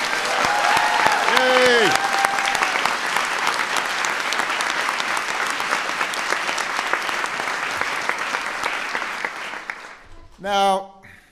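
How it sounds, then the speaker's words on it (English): A large audience applauds young students at a science fair, with steady, sustained clapping filling the room until it stops, followed by a brief cheer from a child. "let's give them all a big round of applause."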